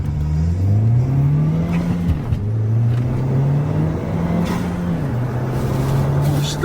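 A Nissan Juke Nismo with a loud turbo modification revs nearby, the engine tone sweeping up and down in pitch with turbo spool whine over a rough exhaust, fairly loud and close.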